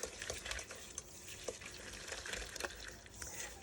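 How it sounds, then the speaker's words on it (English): Carrots are stirred into a sugary glaze with a wooden spoon, making quiet, close, wet mixing sounds with soft irregular knocks and scrapes against the bowl. "Now we're going to give that a good mix together"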